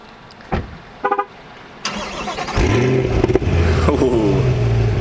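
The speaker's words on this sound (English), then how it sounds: "Listen to that V8 rumble." A Chevrolet Corvette C8 Stingray V8 fires up on a street, a few sharp bursts leading into a deep, loud, close rumble that swells and holds steady.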